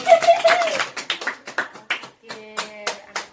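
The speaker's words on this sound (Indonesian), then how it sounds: "Tepuk tangan dulu." Classroom pupils clap for the winning groups in a lesson, a short burst of scattered, uneven hand claps, close and fairly loud, mixed with a teacher's brief talk and children's voices.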